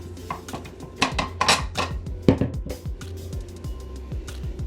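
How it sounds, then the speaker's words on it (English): Metal clinks and knocks as a stand mixer's paddle attachment comes off and a spatula scrapes it, giving a string of irregular close taps and scraping strokes. "Scrape off your paddle attachment."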